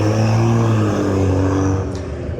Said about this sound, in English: Always got loud cars around.